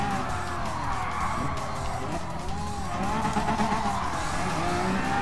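A Lamborghini Aventador drifts in GT Sport, its tires skidding and squealing over a steady, loud engine roar that holds throughout without a break.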